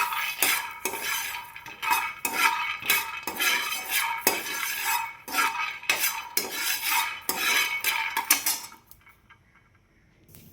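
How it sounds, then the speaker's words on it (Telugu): Peanuts being dry-roasted and stirred in a metal pan with a spoon, a steady run of scraping and clinking strokes up close that stops near the end, leaving quiet. "పల్లీలు అయితే బాగా వేగిపోయానండి."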